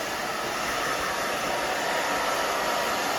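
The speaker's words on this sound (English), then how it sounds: "my fingers and the blow dryer are going the whole time" A hair dryer blows steadily at close range, a constant loud whooshing roar with no pauses or talk.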